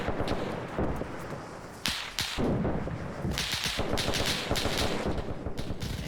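Gunfire crackles through a video game battle set among ANZAC and Italian troops in Ethiopia, with dense bursts of rapid shots and heavier blasts following one another at close range.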